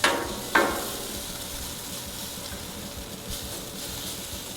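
Tortillas and onions sizzling on a Blackstone griddle, a soft continuous hiss with a couple of sharp scraping clanks near the start and no voices.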